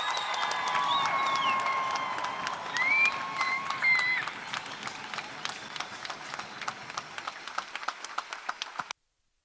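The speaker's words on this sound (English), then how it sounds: "Comets fans, one more time, big round of applause" Crowd at an indoor soccer game applauding and cheering in a sustained round, with whistles and a sports arena feel, tapering into scattered claps toward the end.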